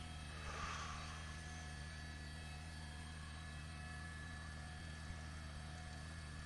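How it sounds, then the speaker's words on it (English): A helicopter drones steadily overhead during an emergency response to a school shooting in Santa Clarita, California, a faint continuous rotor hum with no talk. "See the helicopter over here?"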